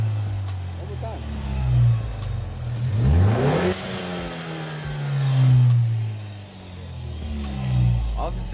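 A turbocharged car engine revs up and down in several swells, a deep rumbling roar with rising and falling pitch sweeps, loud and close throughout.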